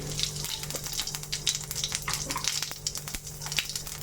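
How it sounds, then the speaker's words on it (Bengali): Cumin seeds crackle and sputter in hot oil while being tempered for a Bengali amudi fish chorchori, a soft continuous sizzle dotted with light pops, heard close with no speech. "তেলটা একটু ভালো করে গরম করে নিতে হবে এবার একটুখানি জিরে ফোড়ন দেবো আমি"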